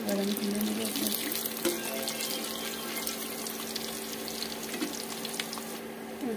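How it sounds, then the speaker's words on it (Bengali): Vegetable chops deep-frying in hot oil, a steady dense sizzle and crackle that holds throughout at moderate level, with no voices. "ভেজিটেবিল চপগুলো খুব সুন্দরভাবে ভাজা হয়ে গিয়েছে।"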